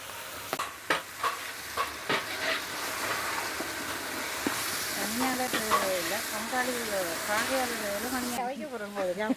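Ginger-garlic paste sizzles and is stirred in a pan while Sri Lankan duck biryani is cooked. A soft, steady frying hiss is broken by scraping stirs, with a voice talking over it.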